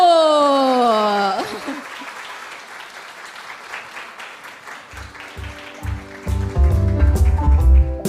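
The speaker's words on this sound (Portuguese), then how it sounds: "vamos receber com fortes aplausos, a Keila Araújo!" Audience applause welcomes a guest onto the stage at a children's ministry event, a broad, steady clapping wash that follows sung or sustained vocal tones and continues under music that enters near the end.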